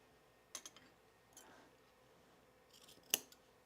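Scissors snip through dress fabric in a few quiet, sharp cuts, spaced out with pauses between them, the last snip the crispest.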